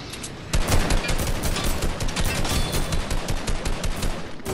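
Rapid, dense bursts of gunfire crackle continuously, loud and close, like sustained automatic weapons fire in a video game battle, with a helicopter being shot at.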